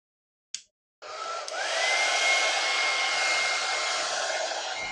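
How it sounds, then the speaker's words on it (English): A short click, then a hair dryer switches on and blows steadily onto a computer heatsink with a loud, even whoosh and a faint rising whine. "Use the hair dryer on the heatsink, not directly on the chip."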